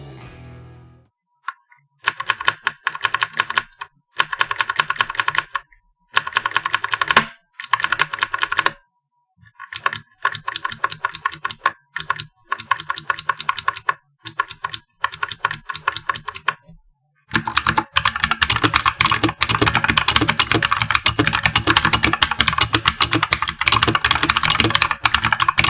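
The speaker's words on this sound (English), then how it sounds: "My Z-77 has Outemu blue switches which are tactile and clicky." Clicky Outemu blue switches on a MechanicalEagle Z-77 mechanical keyboard, typed close up in bursts of rapid sharp clicks separated by short pauses, then a long unbroken stretch of dense fast typing with O-rings compared.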